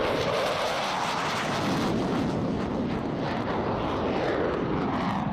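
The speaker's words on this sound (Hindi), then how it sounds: "5 F-35 फाइटर जेट्स ने वेनेजुएला के एयर स्पेस में उड़ान भरी है" F-35 fighter jets fly overhead with a loud, sustained roaring engine rush that swells and shifts in tone over several seconds, with no talking over it.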